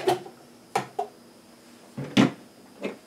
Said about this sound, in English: let's go ahead next and dump the apples in there